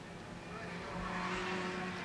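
A small Alfa touring car in a 1970 Tasman Series production touring car race roars past on the track, its engine note steady and swelling slightly as it nears, with faint commentary underneath.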